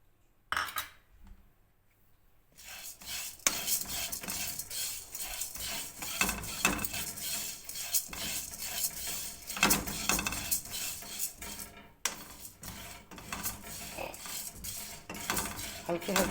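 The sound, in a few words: lightly frying melon seeds in a kadhai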